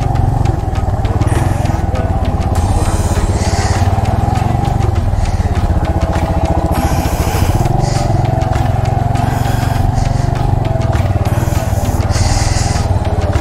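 A motorcycle parked at a roadside stop during a Pakistan bike ride idles with a steady, loud, close engine drone that holds unbroken throughout, while background voices murmur underneath.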